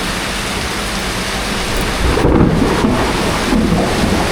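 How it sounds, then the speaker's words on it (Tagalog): Heavy rain pours steadily while a deep roll of thunder swells partway through and lingers, loud and close, with no talking. "grabe, ay kulog eh."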